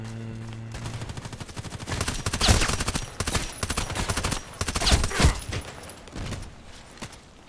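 Bursts of automatic gunfire and single shots crackle loudly in the Contract Wars shooter, dense overlapping reports coming in waves with a couple of heavy impacts, close and intense.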